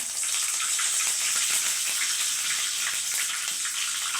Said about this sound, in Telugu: ఆయిల్ వేసినాను, ఆవాలు వేసినాను, కరివేపాకు వేస్తున్నాను